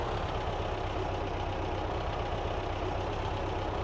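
A tractor engine in Farming Simulator 15 idles steadily, giving a constant loud drone with a low throb that stays even throughout, without any talk over it.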